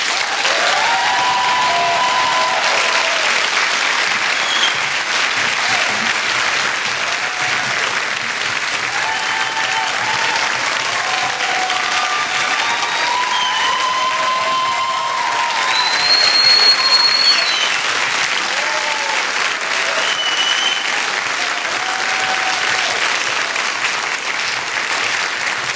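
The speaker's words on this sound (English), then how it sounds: "So first, one more round of applause for our Brave cast." Sustained applause from a theater audience for the cast of a This Is My Brave show in Houston, steady and dense for the full stretch with faint crowd cheering rising briefly near the middle.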